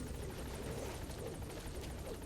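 Steady rotor thump and engine drone from a hovering helicopter in Metal Gear Solid V, close and unbroken, with no voices over it.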